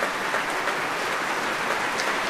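Concert audience applauds steadily as the soloist and conductor walk onto the stage, a dense even patter of many hands with no voices.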